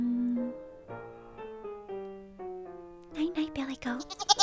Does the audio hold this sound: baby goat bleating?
yes